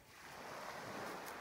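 Ocean surf washing onto the beach of Kimbe Island in Papua New Guinea, a steady broadband rush of breaking waves mixed with light wind noise, close and continuous with no voices.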